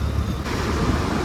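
A vehicle drives along a road through Mumbra, its steady broadband rumble of engine and tyre noise holding at a constant level throughout.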